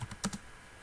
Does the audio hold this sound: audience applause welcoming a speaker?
no